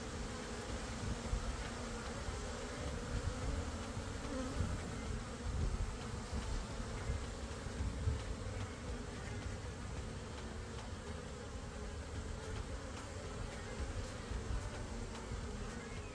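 Honey bees around a nucleus hive, with workers returning carrying pollen: a dense, continuous buzzing drone of many bees, steady and fairly close throughout with no pauses.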